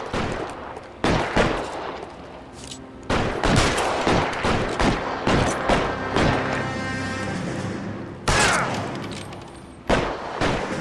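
Loud shootout gunfire from the video game L.A. Noire, coming in repeated heavy bursts and volleys with short pauses between them, mixed with crashes and thuds and no talk over it.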